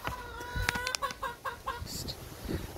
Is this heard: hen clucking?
yes